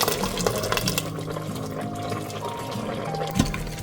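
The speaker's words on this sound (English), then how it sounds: "Now I'm gonna add water in this" Water pours into a NutriPot cooker already holding vegetables, spices and tomato paste, a short, steady splashing fill heard up close without any talking.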